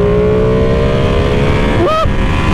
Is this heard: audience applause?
no